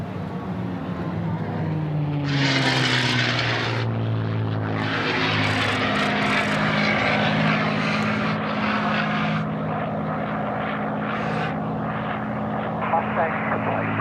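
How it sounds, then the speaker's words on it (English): A P-51 Mustang propeller fighter makes a low pass at a beachfront airshow, its piston engine swelling into a loud, droning roar with a falling pitch sweep as it goes by, while an announcer talks over it. "Last pass for the Mustang."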